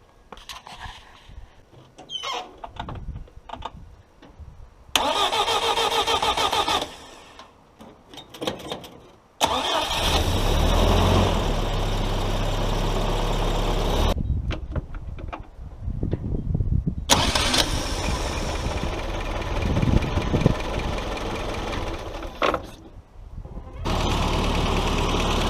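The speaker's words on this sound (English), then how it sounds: "Well, the starter works great." A Willys Jeep CJ5 engine cranks over on a new Toyota starter, with several loud bursts of starter whir and engine catch separated by pauses, then runs at a steady rumble close by.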